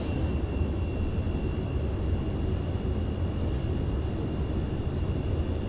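Steady, loud engine roar of a YS-11 twin-turboprop airliner on the takeoff roll down runway 8 in a flight simulator game, a dense continuous drone with a faint high whine running through it, no voices.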